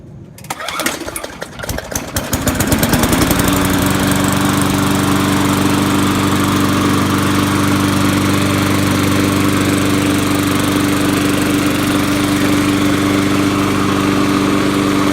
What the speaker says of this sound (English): So here's the final look and start of this Poulan Pro put on a Murray deck.